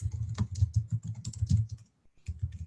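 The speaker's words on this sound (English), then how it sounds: "I can see that he's typing madly" Fast, busy typing on a computer keyboard, irregular bursts of clicking keys close by with a brief pause before the tapping resumes.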